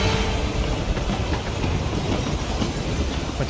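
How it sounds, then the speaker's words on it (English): Steady rumbling train noise with rolling wheels and faint clickety-clack, continuous and fairly close, as train cars are decoupled in the video game Hitman 3 on a Carpathian Mountains level; no voices. "Interact with that. This will decouple the train."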